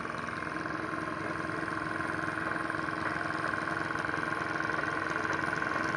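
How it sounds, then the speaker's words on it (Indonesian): Steady, continuous engine drone of an excavator and other machinery at a toll road construction site, heard from a distance as an even, unbroken rumble with no speech. "Dan ada eskavator dan mesin"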